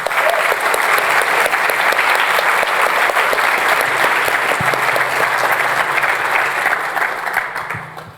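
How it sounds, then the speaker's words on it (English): Sustained applause from a large audience after presentations, steady and loud throughout, tapering off near the end. "can we please just give them another round of applause?"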